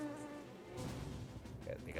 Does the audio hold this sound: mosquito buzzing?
yes